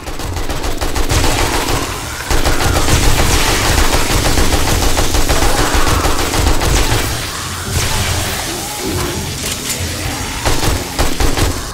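Sustained machine gun fire in the video game 7 Days to Die, loud rapid bursts with booming impacts that run almost without pause, with a brief gap near the start.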